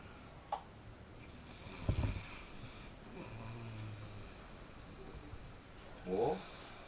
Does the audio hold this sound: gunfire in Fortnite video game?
no